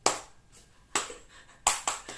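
A few loud, sharp hand claps from an audience at a Christmas church service, spaced irregularly, with quiet gaps between them.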